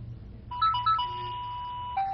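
A telephone in a Tamil cartoon plays a bright electronic ringtone melody, clear and close, starting after a short quiet moment and repeating its tune with no talking over it.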